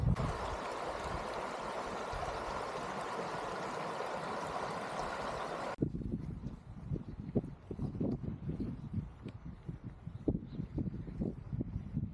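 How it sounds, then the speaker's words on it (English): A quiet, low-water little stream flows through Apple River Canyon State Park in northwestern Illinois. A steady broadband wash drops suddenly to a softer, uneven gurgle and trickle close by. "Nice quiet little stream now."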